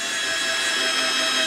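A power drill bores a pilot hole into wood while building a bed storage platform, a steady high whine held close and loud throughout with no talk over it.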